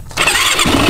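A Jeep engine cranks and catches after a brief pause, then roars loudly and steadily with a high squealing edge close by.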